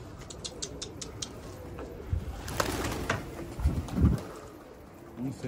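A pigeon coos softly nearby and wings flutter and flap in bursts, with faint rustling and thumps in the background.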